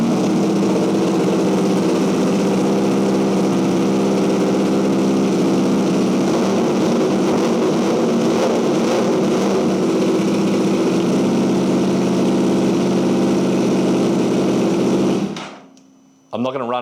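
A wrecked Japanese superbike runs on a straight-pipe exhaust indoors, a loud steady engine roar that holds for about fifteen seconds, then cuts out sharply and leaves a brief quiet.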